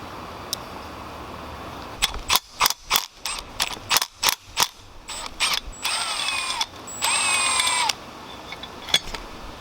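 A ratchet clicks in quick bursts close by while the power steering pump reservoir is being removed from a 1992 Subaru WRX, with short pauses and a couple of brief metallic rattles between the turns.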